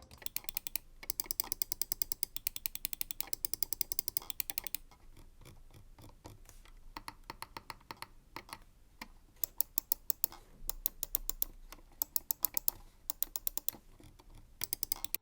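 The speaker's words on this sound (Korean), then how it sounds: "상황에 따라 클릭 소리가 다소 크다고 느껴질 수도 있을 것 같아요" Sharp, crisp clicks of a Razer Basilisk X HyperSpeed mouse's buttons come close up, some in rapid bursts and others spaced apart, with quiet gaps between the clusters.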